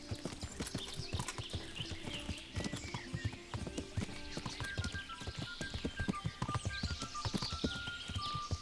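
Steady clip-clop of horse hooves at a trotting pace in the video game Kingdom Come: Deliverance, fairly close and continuous, with a brief whinny partway through and faint game music tones.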